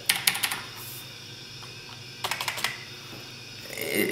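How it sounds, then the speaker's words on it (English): A Razer BlackWidow mechanical keyboard typed on hard, keys rattling in two quick bursts of clacks separated by a pause, close and fairly loud. "I hit the keys pretty freaking hard. So if you listen here, it's almost got a rattling sound to it."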